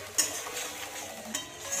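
Turmeric and coriander powder frying in oil for a pabda fish curry, with a soft steady sizzle under occasional spoon stirring and scraping against the pan, close by.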